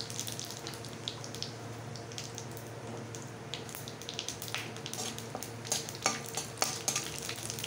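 Whole cinnamon, cloves, a cardamom pod and cumin seeds frying in hot oil for a Bengali parwal curry, a steady close sizzle with scattered crackles and spits that grow sharper and more frequent toward the end, with no talk.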